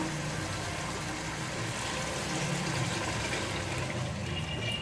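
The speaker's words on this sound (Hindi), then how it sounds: "अब हम इसमें पानी ऐड करेंगे ताकि हमारी ग्रेवी तैयार हो जाए" Water pours into a pan of black chana curry, a Punjabi kala chana dish, giving a steady rushing and hissing splash that continues throughout at moderate loudness with no talk.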